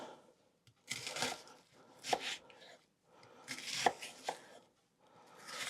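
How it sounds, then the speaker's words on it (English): A knife chops an onion on a board in a series of quick, close bursts of rapid cuts separated by short pauses, with no talking. "after I've chopped this onion, I'll switch the main light on"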